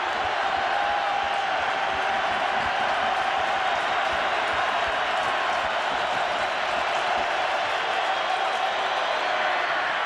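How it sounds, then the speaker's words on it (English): A large football stadium crowd at a 2006 Bengals–Ravens game roars in a sustained, dense wash of cheering for the full stretch, broad and continuous with no breaks. "This crowd knows the outcome. They're cheering the shutout at this point."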